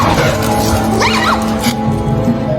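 A dog barks and whimpers at a young tiger cub inside a household in an animal film, with a rising yelp-like cry over a constant backdrop of music.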